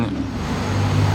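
A Pagani Utopia supercar on a Monaco street, a brief loud engine roar with low rumbling tones rising as it passes close by.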